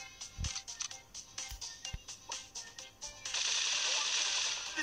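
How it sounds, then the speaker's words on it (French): Colt's pirate skin super in the Brawl Stars video game firing big bullets as a rapid volley of sharp gunshots, then a sustained loud blast of flame-like noise at the end. "Alors l'ulti, on balance des balles beaucoup plus grosses."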